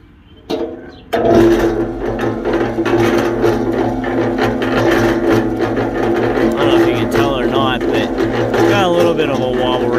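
Harbor Freight 3-1/2 cubic foot cement mixer running close by, its motor humming steadily while the pulley turns, after a brief quiet start; the drone stays loud and even throughout with shifting whirring tones near the end.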